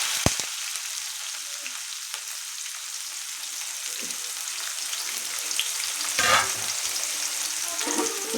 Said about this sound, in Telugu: ఇవి బాగా ఆయిల్లో కొంచెం బ్రౌన్ కలర్ వచ్చేంత వరకు ఉంచేద్దాం